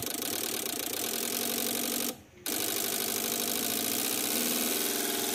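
Loud, close engine of a Suzuki Grand Vitara running with a steady mechanical drone, briefly cutting out for a moment before resuming at an even, slightly raised pitch around 1500 rpm.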